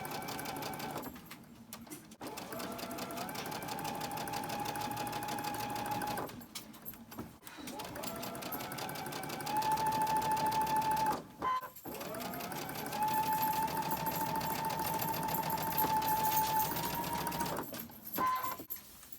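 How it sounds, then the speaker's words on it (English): Sewing machine stitching the final seam of a cotton quilt block with bias edges on top, running in long steady bursts with brief pauses between, close and loud. "here's our last seam to sew"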